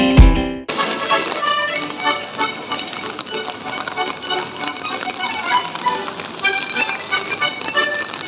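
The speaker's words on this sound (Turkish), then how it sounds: "Yağmurda kaldık." Rain falling at an uncovered bus stop in France, a steady patter of drops striking nearby surfaces with irregular close taps, continuous after a brief louder noise at the start.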